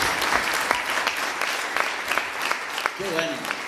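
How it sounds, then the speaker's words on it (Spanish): A church congregation at a Sunday Easter-season service applauds steadily with dense, sustained clapping, and a voice briefly speaks near the end. "Démosle un aplauso al Señor por eso."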